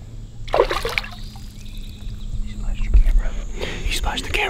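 River current rushes and trickles close by in a steady wash, with small splashes and muffled voices in the background.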